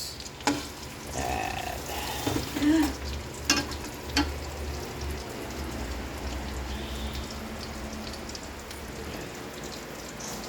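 Food sizzles and fries in a kawali during home lunch cooking, a steady crackling hiss under occasional stirring clatter and a brief word, continuing evenly throughout.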